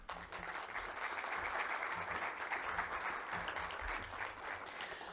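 A hall audience applauds steadily to welcome the president of the Gabriela Mistral committee at a lecture event, the dense clapping sustained and fairly even for several seconds.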